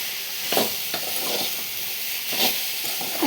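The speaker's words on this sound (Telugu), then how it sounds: "బీరకాయ ముక్కలు యాడ్ చేసుకున్న తర్వాత మొత్తం ఒకసారి బాగా కలుపుకోవాలి." Chopped ridge gourd pieces are stirred in a hot pan, giving a steady soft sizzle with a few scraping strokes from the spatula and no voices.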